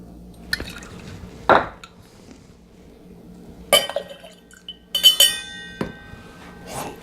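Chocolate liqueur is poured into a bar measure for an almond biscotti martini, with short liquid drips and a few sharp glass clinks scattered over a quiet background.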